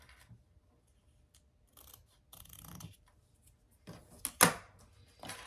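Excess waterproof canvas is cut away for a clutch wallet in a few quiet, scattered snips and scrapes, and the loudest cuts come near the end.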